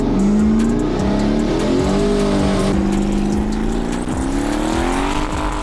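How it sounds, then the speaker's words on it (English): Twin-turbo LS-swapped 1983 Volvo 240 with a loud, rising and falling engine drone close by, revving steadily through the whole stretch with no talk. "Ross has a twin turbo LS Volvo and it's done. Well, it's not done, but it's driving."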